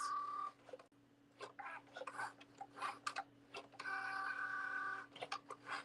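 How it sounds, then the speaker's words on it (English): A Cricut Joy cutting machine cuts out a card front, with short whirring motor runs and clicks in an uneven rhythm and one longer steady hum near the end, heard close and fairly quiet. "Now it's going to cut out the front of the card for us."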